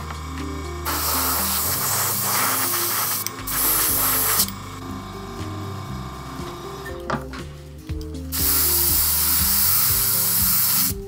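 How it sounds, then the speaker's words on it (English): An airbrush sprays aluminum paint in bursts, a loud close hiss starting and stopping several times while a compressor or machine hum drones underneath. "still have some aluminum paint in my airbrush. I'm going to give this an initial coat"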